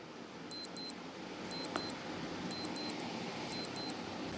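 A quiz countdown timer beeps in quick pairs once every second, four double-beeps in a row, crisp and fairly clear above a faint hiss, with no one speaking.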